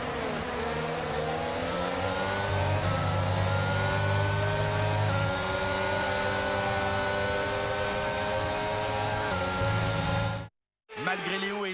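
A Williams Formula 1 car engine in the F1 22 racing game just past the final finish line: a loud, continuous high-pitched engine whine with shifting revs that holds steady, then cuts out briefly near the end before returning.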